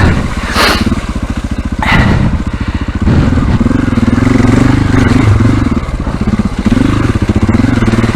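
A trials motorcycle picks its way over slippery, off-camber rocks, its engine pulsing and blipping loudly close by as clutch and throttle are worked, with short revs and steady low chugging.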